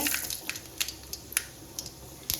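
Mustard seeds splutter in hot oil in a pan for a beans stir-fry, giving sparse, faint crackling pops scattered irregularly over a quiet background.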